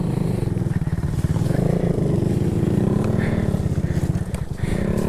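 A motorcycle rides off-road on a group trail ride, its engine droning steadily and loudly throughout with a rough, pulsing note and some rattling, close to the recorder.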